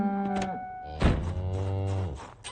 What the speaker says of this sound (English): That's the sound of the cows laughing at me.